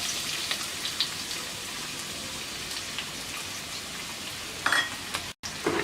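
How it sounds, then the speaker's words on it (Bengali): Two medium chopped onions fry in four tablespoons of hot oil in a kadai, giving a steady dense sizzle and crackle with a few louder pops near the end. "পেঁয়াজটাকে হালকা ভেজে নেব।"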